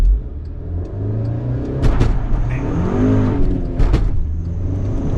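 A Cobb Stage 1 tuned MK6 VW GTI with a Stage 2 clutch revs up toward 3,500 RPM, a loud, close engine drone that steadily rises and swells, with a couple of sharp transient clicks over the sustained roar.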